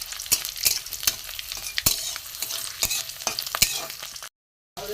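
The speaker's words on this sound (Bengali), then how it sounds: "রসুনটা একটু লাল করে ভেজে নেব।" Garlic cloves frying in oil with black cumin seeds, a steady crackling sizzle broken by sharp clicks of a spoon stirring in the pan, close and continuous before a brief silence.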